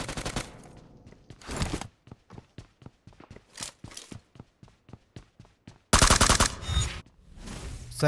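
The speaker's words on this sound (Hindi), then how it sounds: "आसपास भी काफ़ी सारे बंदे का डीपी चलाने का आवाज़ आ रहा है" A DP-28 machine gun fires in the PUBG battle-royale game, loud rapid bursts separated by rows of single cracking shots, with heavier volleys near the end.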